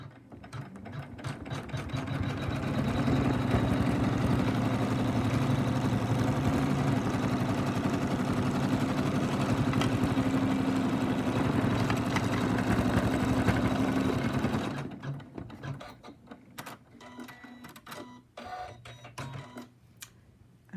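Embroidery machine stitching an in-the-hoop pig softie runs steadily for about fifteen seconds with a dense, rapid mechanical whirr, then stops, leaving faint intermittent clicks and handling noises.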